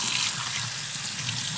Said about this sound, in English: now we're just washing the beans off